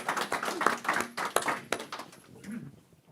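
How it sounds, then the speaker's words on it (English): Audience applause for a presenter at a climate and environmental information event, a dense burst of clapping that rises loud and then thins out and fades over a few seconds. "A big round of applause for Said."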